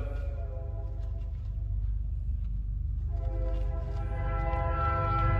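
A long CN freight train with Kansas City Southern and BNSF units passes on the Dundas subdivision, giving a steady low rumble of rolling wagons with rising wheel squeal and tonal whine toward the end.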